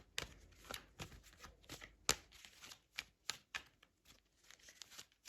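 Tarot cards being shuffled and pulled from a deck, close and quiet, with a rapid series of crisp riffling snaps and flicks at irregular intervals and no talking.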